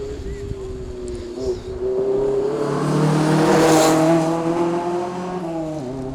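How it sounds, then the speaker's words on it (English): A small Ginetta G40 rally car's engine roars past at close range on a rally stage, revving loudly as it approaches and then fading away. "Lovely little car, that sounds nice."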